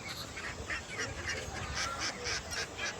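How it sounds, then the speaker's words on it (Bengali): Young ducks on a duck farm call out at feeding time, a rapid run of repeated quacks and honks from a nearby flock over light background noise. "এই দেখুন আমাকে দেখেই হাঁসগুলো কীভাবে দৌড়ে দৌড়ে এলো।"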